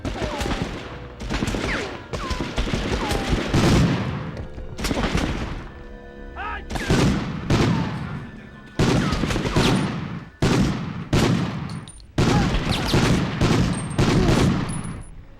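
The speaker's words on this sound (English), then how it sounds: "this is the Browning automatic rifle" Browning Automatic Rifle firing in the 1999 video game Medal of Honor, loud repeated bursts of automatic gunfire with short pauses between them, steady and close throughout.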